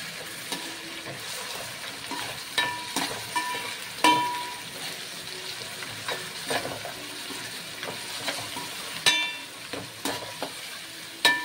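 Onions and ginger paste fry in a pan for chicken dum biryani, with a steady sizzle broken by repeated scraping stirs of a spoon against the pan.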